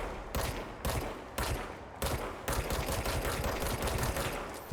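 Bursts of automatic gunfire in the video game Control, several sharp loud volleys in quick succession with brief gaps between them, close and dense.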